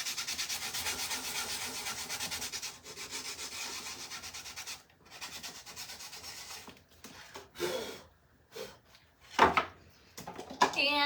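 Hand sanding of a painted wooden sign lettered in blue over gold, a steady scratchy rubbing that runs for several seconds, then breaks into shorter strokes with pauses, close and fairly loud.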